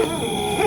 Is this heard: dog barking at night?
yes